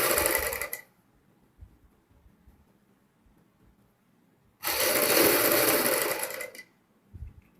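Sewing machine stitching a boat neck blouse runs in two loud bursts, the first about a second long and the second about two seconds, with quiet pauses between.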